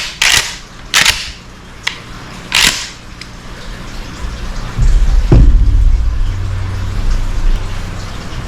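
A Mossberg Maverick 88 pump-action shotgun is cycled, giving several sharp, loud mechanical clacks close by, spaced about a second apart, followed by a low handling rumble.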